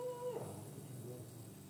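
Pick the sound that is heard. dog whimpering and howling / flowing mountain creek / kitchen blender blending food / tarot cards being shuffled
dog whimpering and howling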